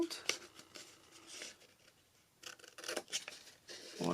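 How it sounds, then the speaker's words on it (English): Scissors snip through folded paper to cut out a small triangle, a series of faint, irregular crisp snips and rustles, quiet and close, with a sharper paper rustle at the end. "So you've cut yourself a lovely little triangle there"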